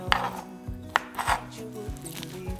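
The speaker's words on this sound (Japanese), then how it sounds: "油揚げ2分の1枚も一口大に切ります。" Repeated sharp knife chops on a cutting board as fried tofu is cut into bite-size pieces, spaced about half a second apart, close and moderately loud, with no talking.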